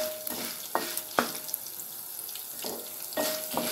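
Mint pickle ingredients roasting in a pan on a low flame, with a soft continuous sizzle and a few sharp clinks from stirring spaced through the few seconds.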